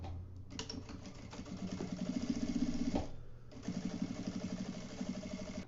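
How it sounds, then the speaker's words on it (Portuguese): A sewing machine runs a seam along the edge of fabric for a baby document holder: close, rapid mechanical stitching in two bursts with a short pause between them. "E passa uma costurinha aqui na beiradinha."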